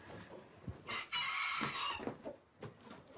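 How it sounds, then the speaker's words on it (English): Light Sussex chickens on a farm, recently brought in as the first livestock, cluck and crow nearby, with a drawn-out crow in the middle and short clucks around it. "These are my chickens I brought over, and they're light Sussex is the breed."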